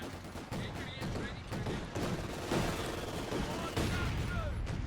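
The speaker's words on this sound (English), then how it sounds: "Nasty hit there by the mortar." A mortar hit and counter barrage in the strategy game Company of Heroes 2, with a dense rumble of gunfire and explosions in steady waves, a voice talking over it.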